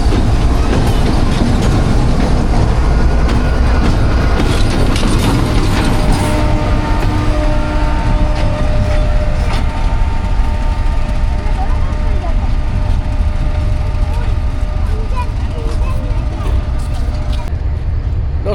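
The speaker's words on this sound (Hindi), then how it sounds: "9014 GU40 4563 हॉर्स पावर का लोकोमोटिव है।" A Pakistan Railways GU40 diesel locomotive of 4563 horsepower arrives, a loud, continuous close rumble with steady engine tones and mechanical rattling that holds for the whole stretch.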